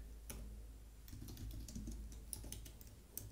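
Keys tapping on a computer keyboard as code is typed, quiet irregular clicks in short bursts with a low steady hum beneath, no talking.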